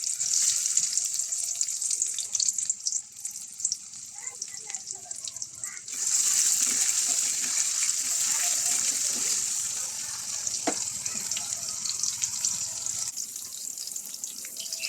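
Tap water runs into a sink while dried fish is washed, a steady hissing gush that stays close and fairly loud, with splashes and shifts in the flow as the fish is handled.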